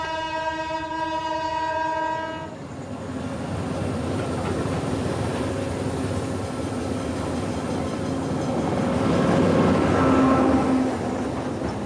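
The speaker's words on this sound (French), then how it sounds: "On entend le train." A train on a railway track in Costa Rica sounds a loud chorded horn at the start, then rumbles past nearby with a steady grinding roll that swells toward the end.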